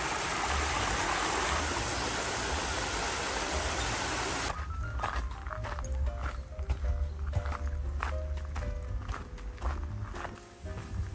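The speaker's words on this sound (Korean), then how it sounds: "3코스는 초반부터 아주 계곡 물소리가 시원하게 들리는 게 기분이 아주 좋네요" Rushing mountain stream water in a forest valley on a Seoul trail fills the first few seconds with a steady, loud wash, then drops back as footsteps crunch along and the flow continues quieter underneath.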